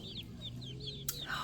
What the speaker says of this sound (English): The chickens that are laying now are the baby chickens